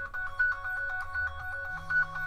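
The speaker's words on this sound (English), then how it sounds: "Hang on, there's the phone." A phone rings with a repeating electronic tone, clear and fairly close, a short run of regular bursts against a quiet room with no talking.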